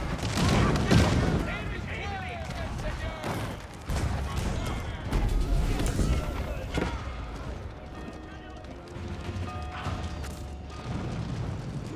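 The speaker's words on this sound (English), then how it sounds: "Massive volley there from the Mangonels." Mangonels loose a massive volley during an Age of Empires battle, a dense clatter of mechanical creaks and booming impacts layered with gunfire and crowded battle noise, steady and loud throughout while a voice talks over it.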